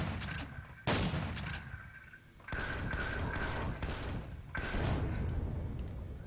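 Gunfire in the space survival game Empyrion Galactic Survival as a spawner is shot: several sharp, loud blasts in bursts with echoing tails and a faint mechanical hum between them, no voices.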